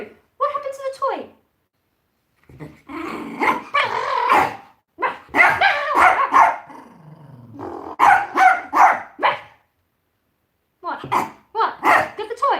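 A dog barks and growls indoors in short bursts of close, loud yips and woofs separated by pauses. Voices are mixed in with the barking.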